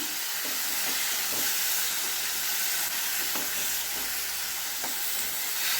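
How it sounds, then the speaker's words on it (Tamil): Tomatoes with a pinch of rock salt sauté in a pan for Chettinad kara chutney, giving a steady, close sizzle with faint stirring scrapes and no voices. "கொஞ்சம் நேரம் நல்லா வதக்கட்டும்."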